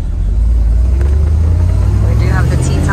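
Rumbling engine of a 1971 Chevrolet Corvette Stingray with T-tops on, heard from inside while driving, a loud steady low drone throughout with a voice speaking over it.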